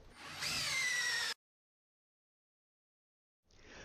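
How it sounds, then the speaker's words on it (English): A power drill runs in one steady, loud burst driving a lag screw into a wall-mount bracket for a P3 T6 computer. After a short silence the drill whirs again and is cut off. "you can place your lag screws into the mount."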